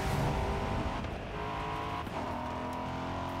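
A Lamborghini in Forza Horizon 5 with its engine roaring loud and steady, pitch dipping and rising again around shifts, with possible tire squeal and no talking.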